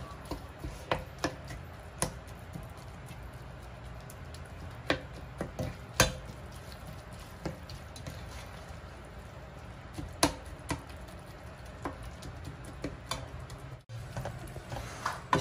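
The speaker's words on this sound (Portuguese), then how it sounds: "Vai esmagando a sardinha, que nós queremos ela bem triturada, né? Nesse refogado com os temperos." Sardines are crushed with a utensil in a pan of sautéed seasonings for vatapá, giving quiet scattered taps and scrapes against the pan over a soft sizzle, with no talking.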